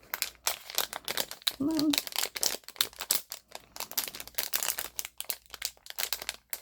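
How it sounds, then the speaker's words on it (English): Crinkling plastic packaging rustles and crackles in bursts as a parcel of happy mail is unwrapped up close, with a few brief spoken words over it. "Sorry for the crinkling"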